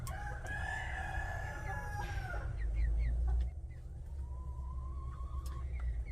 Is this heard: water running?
no